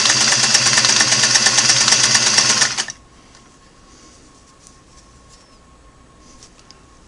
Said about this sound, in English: Let's do that same zigzag stitch and see how it looks.